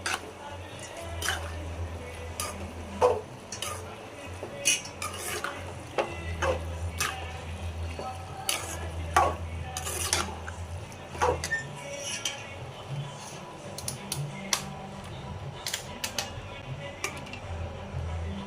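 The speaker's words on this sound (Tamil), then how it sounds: "பாஸ்தாவை சேர்த்து நல்லா மிக்ஸ் பண்ணிக்கோங்க." White sauce pasta being stirred in a pan, with a spoon scraping and clinking against the metal in irregular taps over a low simmering bubble, close and moderately quiet.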